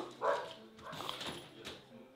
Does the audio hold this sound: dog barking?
yes